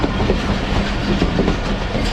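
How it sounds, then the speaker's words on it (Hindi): The Jaffar Express approaching Sibi Junction in Balochistan rumbles loudly and close, with steady clattering of wheels over rail joints throughout. "ट्रेन हमारी अप्रोच बना रही है सिपी जंक्शन पे"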